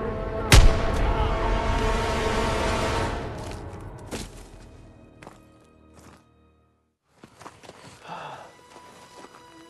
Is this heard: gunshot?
yes